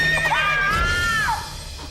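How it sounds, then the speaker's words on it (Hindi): A horse gives one loud, close whinny that rises and trails off over about a second, with a faint thud in the middle and quieter background afterward. "गुंजा का घोड़ा, उसका घोड़ा कहाँ देखा था आपने उस घोड़े को?"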